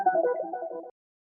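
A dark, experimental green monster texture from a sample kit plays alone as a short, muffled, tonal swell lasting under a second before cutting off abruptly into silence.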